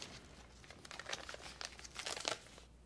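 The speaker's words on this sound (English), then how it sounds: "why are you passing me a piece of paper?" Paper handled and passed from one person to another, a run of close crinkling and rustling bursts that grow busier toward the end, with no talk.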